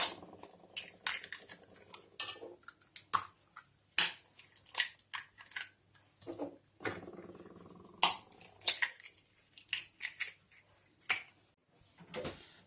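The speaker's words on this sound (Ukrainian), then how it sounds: "Три яйця розбиваємо в мисочку." Three eggs are cracked into a small bowl for a no-bake Napoleon cake, bringing sharp, close clicks and taps of shell against the rim, scattered irregularly with brief wet drips and quiet pauses between.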